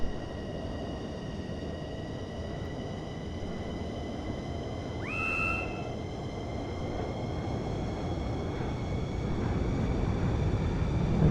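An F-15 jet, with flaps down on a landing approach near Sonoma Raceway, gives a steady, broad engine roar with a constant drone and high whining tones, continuous and moderate throughout.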